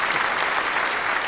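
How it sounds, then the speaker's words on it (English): An audience claps loudly and steadily in a brief, dense burst of applause from a live crowd. "Can I get a bit of a clap for that"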